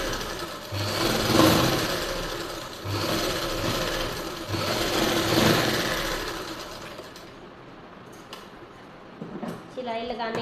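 A sewing machine runs fine stitching along the edge of a baby frock, its whirring bursts rising and falling near the mic for about seven seconds before stopping, with a few clicks after.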